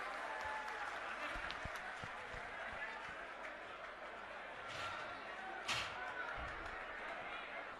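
Crowd applause at a political rally for Manish Sisodia at Jantar Mantar in Delhi, a dense continuous wash of clapping heard from a distance, steady throughout with a few sharper bangs.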